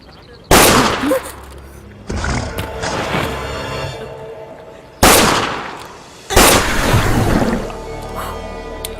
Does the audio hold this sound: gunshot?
yes